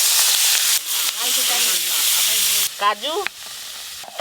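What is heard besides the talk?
frying prawns in a pan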